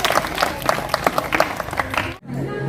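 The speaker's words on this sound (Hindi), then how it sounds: "इनके पक्ष में भी एक बार आप सभी तालियां बजाएं" Brief burst of audience applause at a school Independence Day celebration in India, dense and moderately loud, ending abruptly as music begins.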